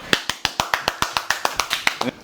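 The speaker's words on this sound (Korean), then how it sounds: "박수!" About a dozen crisp, evenly spaced hand claps ring out close by in a brisk steady rhythm as a guest is welcomed, fairly loud and with no talking over them.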